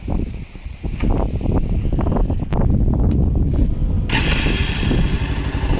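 A modified Pulsar 220F motorcycle with a DB killer fitted in its exhaust runs close by, giving a steady, somewhat muted rumble that thickens after the first second. Wind buffets the microphone throughout.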